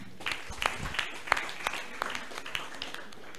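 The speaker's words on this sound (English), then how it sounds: "Please, a round of applause for him." A small audience at a graduation and app development competition event applauds, with faint, scattered claps under a soft room murmur.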